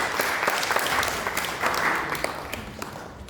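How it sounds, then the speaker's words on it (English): Dense, steady applause from an audience at a community talk, sustained for the whole stretch at an even level with no speech over it. "So a big round of applause to everyone here"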